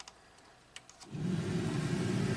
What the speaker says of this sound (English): you hear the blower